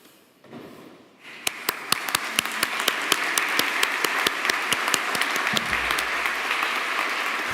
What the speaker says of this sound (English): join me in expressing appreciation for these people by way of applause.